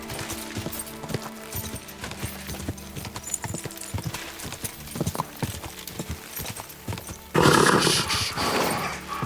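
A horse's hooves gallop and clop in the video game Kingdom Come Deliverance 2, with a steady close rhythm of hoofbeats and gear rattle, swelling into a louder rushing burst near the end.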